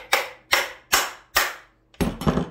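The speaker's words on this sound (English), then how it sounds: "Get me a big hammer" A big hammer strikes a two-jaw gear puller set on the flywheel of a Husqvarna 394XP chainsaw in four loud, evenly spaced metallic blows, then two quicker hits close together.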